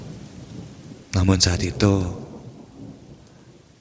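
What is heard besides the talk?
heavy rain and thunder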